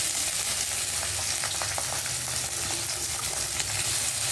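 Onions hitting hot oil in a wok seasoned with bay leaf, giving a dense, continuous sizzle with occasional crackles and stirring scrapes, close and steady with no talking.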